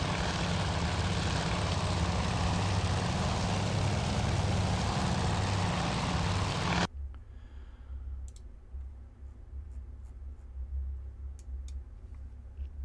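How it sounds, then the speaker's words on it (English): A propeller plane's engine in the naval strategy game Task Force Admiral roars in a steady, loud drone for several seconds, then cuts off abruptly to a faint low hum with scattered soft clicks. "Lovely little plane here."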